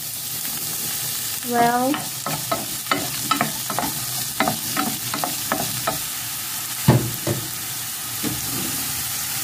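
Garlic and zucchini sizzle in hot olive oil while a utensil stirs and scrapes the pan in a series of sharp clacks over a steady frying hiss; a voice briefly says a word.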